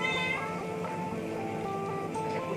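A cat meowing in long, drawn-out, wavering cries over a steady background hum, in a kitchen while water heats to a boil.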